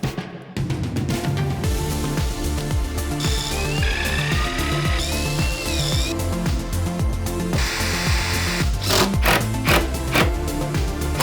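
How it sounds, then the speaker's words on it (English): A power drill bores through wood while building out a camper van's storage. It makes a loud, continuous whirring grind with rising whines as the bit cuts through. "Drill it all the way through, back it up, only until just the nubs coming through."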